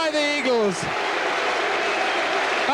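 A rugby league crowd at a Sheffield Eagles match against Widnes applauds a try, a broad steady wash of clapping and cheering that carries through the whole stretch, with a commentator's voice over the top at the start.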